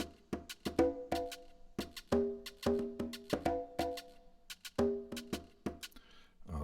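A looping drum pattern of Mexican mariachi drums, with sharp hits and tonal percussive accents, plays in an uneven, busy rhythm, fairly quiet, with no talking.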